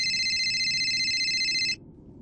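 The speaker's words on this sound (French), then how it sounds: "le téléphone sonna." A telephone rings with a steady electronic trill, clear and fairly loud, holding for most of the moment before cutting off abruptly into quiet room tone.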